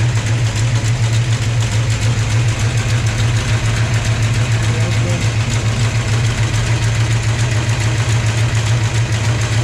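A big 440 V8 engine in a 1971 Dodge Challenger R/T idling steadily with a deep, lumpy rumble, close by and loud, no other sounds.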